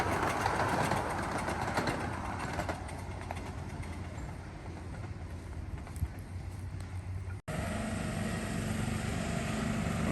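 A 7.5-inch gauge miniature locomotive runs on a backyard-scale railroad, giving a steady, fairly loud mechanical rumble and clatter that holds throughout, with a brief dropout before the running noise resumes.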